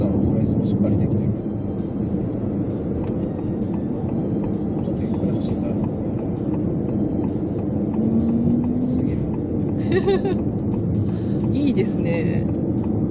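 A 2021 Honda Vezel hybrid runs on cruise control largely on electric motor power, giving a steady, continuous road and cabin rumble throughout, with someone speaking briefly over it.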